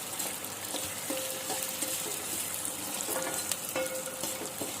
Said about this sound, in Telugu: జొన్నలు వేసుకున్న తర్వాత ఒకసారి అయితే ఇలా కలుపుకోవాలి.